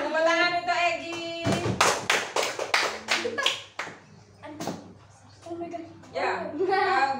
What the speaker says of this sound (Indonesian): Tepuk tangan untuk Egi